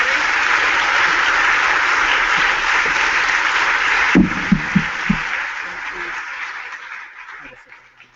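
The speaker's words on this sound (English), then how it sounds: "Round of applause for Blair and everybody." Audience applause at the end of a talk at a FabLab event, steady broadband clapping from a crowd for several seconds before thinning into scattered claps and fading out.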